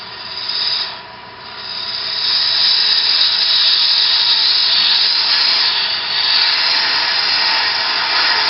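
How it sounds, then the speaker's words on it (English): A wooden sphere is shear scraped on a lathe across end grain, giving a continuous loud rasping scrape that dips briefly near the start and then holds steady, with no speech. "Again, I'm doing a shear scrape"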